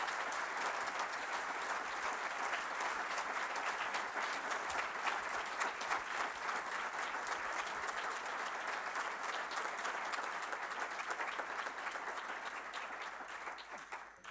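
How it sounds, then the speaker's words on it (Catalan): Sustained, dense applause fills the hall at a university honoris causa doctorate ceremony. Many hands clap evenly for about fourteen seconds before the sound tapers off, with no talk over it. "ara demano un aplaudiment per tots els meus amics"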